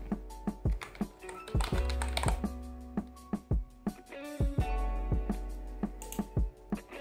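Someone types text on a computer keyboard with crisp, uneven keystrokes close up, in short bursts with brief pauses. A low steady hum sits underneath and no one speaks.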